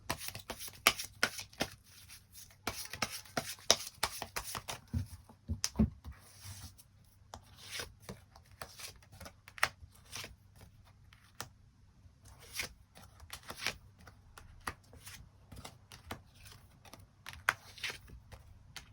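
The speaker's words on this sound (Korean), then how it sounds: "추가 카드 뽑아보도록 하겠습니다" Tarot cards shuffled and drawn in a solo love-fortune reading, a steady run of close, soft papery riffles and slaps with sharp card flicks and taps throughout, no talking.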